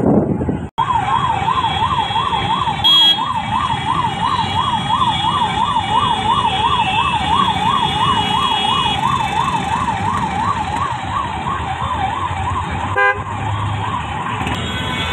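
A nearby ambulance siren stuck in Delhi traffic wails continuously in a fast, rising-and-falling warble for about fifteen seconds over a low road and engine rumble, with no talk.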